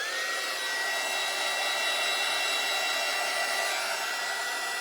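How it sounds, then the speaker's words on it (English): A hair dryer blows steadily at close range to dry paint on a cutting board craft, a loud continuous whirring hiss with a slight whine, unbroken and without talk. "let me get my dryer and dry that a little bit."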